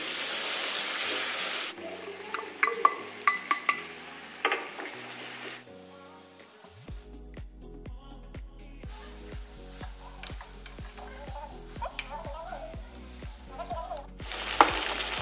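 Mutton sizzles in hot oil in a pan while being cooked down for a curry, a steady close frying hiss broken by the clatter and scrape of stirring, with no voices.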